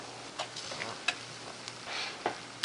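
Chunks of onion dropped into rice frying in oil, giving a faint, crackling sizzle with a few sharp ticks and clicks as pieces hit the pan and are stirred, with no voices.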